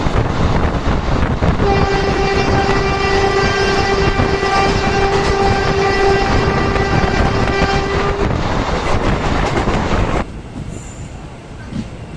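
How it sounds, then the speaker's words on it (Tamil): An Indian express train from Mumbai to Indore rushes along with constant rumbling and rattling wheels, and a long horn blast sounds for several seconds midway. "ட்ரெயின் நல்லா ஃபாஸ்ட்டாக தான் போகும்"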